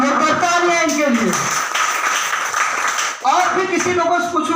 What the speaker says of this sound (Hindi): और तालियां इनके लिए